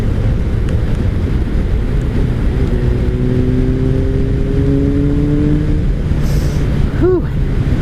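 A 2003 Kawasaki ZR7S motorcycle engine runs steadily in cold weather, a loud continuous drone with rising engine tones and heavy wind noise over the microphone.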